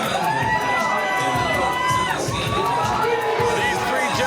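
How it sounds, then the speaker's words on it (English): Crowd at a retro wrestling show cheering and applauding as a tag team and their partner make their entrance: continuous loud crowd noise with whoops and shouts, under a commentator's voice. "making their way out here to generous applause from the masses"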